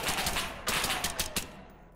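Bursts of MP5 submachine gun fire in the video game SCP: Pandemic, several sharp close shots clustered in the first second and a half, then tailing off into quiet.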